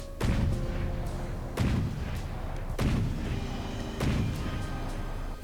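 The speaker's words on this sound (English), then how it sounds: "Let's fire the armor piercing round." Armor-piercing cannon rounds fire in the From The Depths naval combat game: four loud, heavy booms about a second apart, each with a sharp attack and a rumbling tail over constant background noise.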